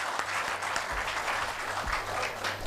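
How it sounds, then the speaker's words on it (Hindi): Audience applause at an Urdu poetry gathering: a continuous, dense burst of clapping from a crowd, steady and loud throughout. "पूरी महफिल तालियों की गूंज में हिमांशी बाबरा को हौसला दे"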